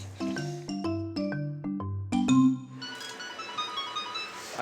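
Home phone ringing with a melodic electronic ringtone of several stepped tones, clear and close, then fading into a softer hiss, with no talk over it.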